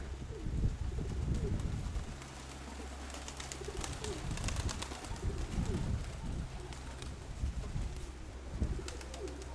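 Pigeons coo softly at a distance, repeated low calls drifting over a steady outdoor background with some rustling.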